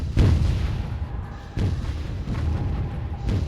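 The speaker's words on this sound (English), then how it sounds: "We've got a whole bunch of mortars shelling the crap out of them" Mortar shelling in a video game, heavy booming impacts landing one after another at irregular intervals, with deep rumbling thuds that trail off between hits.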